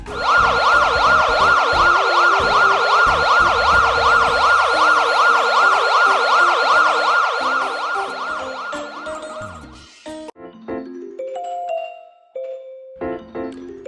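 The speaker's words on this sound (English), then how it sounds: "a police car." A loud wailing siren cycles rapidly up and down for several seconds, then cuts off and gives way to a few electronic tones and beeps.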